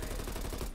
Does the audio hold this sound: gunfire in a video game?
yes